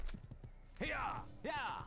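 In the Assassin's Creed video game a horse gives two loud neighs in quick succession, with a few soft hoof clops just before them. A voice speaks briefly under the sounds.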